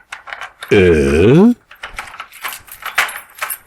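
Keys jingle and clink briefly, close by, mixed with speech and a loud sustained vocal sound.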